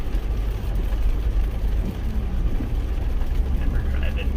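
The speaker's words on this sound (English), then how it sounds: "we're driving right up over the snowbank because Bronco doesn't give a shit" A Ford Bronco pushes up over a snowbank on an icy, snowy day, its engine and tyres a steady low rumble close by, with a voice talking over it.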